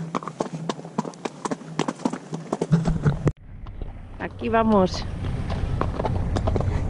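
Cows walk along a mountain road in the Picos de Europa, their hooves clopping in a steady run of close knocks while people talk over them, then a brief chirping call cuts in.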